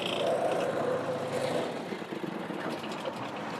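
An Atex AR950FA ride-on brush mower engine runs at a steady idle, a continuous low drone that is moderately faint and fairly close, with no speech over it.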